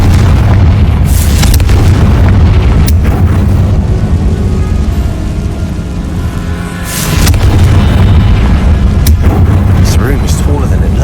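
Confringo fire-blast spell explosions in the video game Hogwarts Legacy: several loud booming bursts over a dense, continuous game soundscape, with heavy impacts around the start, middle and near the end.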